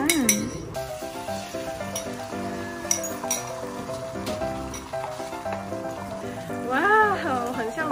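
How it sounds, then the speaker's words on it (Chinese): An egg frying in a hot pan at a home stove while curry with chicken is being prepared, giving a steady sizzle with light clinks, under tonal background sound and a few voices. "现在我们要煎鸡蛋，然后现在火烧了，我们放鸡蛋"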